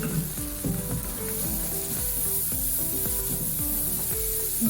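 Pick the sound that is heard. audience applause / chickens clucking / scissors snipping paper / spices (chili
spices (chili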